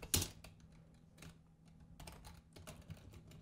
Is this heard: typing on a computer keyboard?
yes